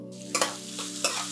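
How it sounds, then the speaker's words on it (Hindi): Chopped onions tumble into a hot pan with garlic already in it, bursting into a close, bright sizzle as a spoon stirs them in a couple of quick scraping strokes. "अब इसमें डाल देंगे हम हमारी कटी प्याज।"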